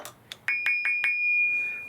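A thin linishing disc spinning on a lathe rings like a bell as it chatters against inclusions, giving several sharp metallic pings that merge into a sustained high-pitched tone, which then fades away.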